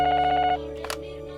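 A telephone rings at home with a bright electronic trill for about half a second, then stops, followed by a brief soft clatter and quiet room tone.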